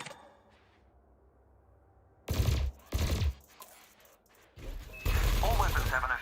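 Ship weapons in Elite Dangerous fire at floating canisters in two short, heavy bursts, then a longer burst with crackling impacts, loud and near over a quiet cockpit hum.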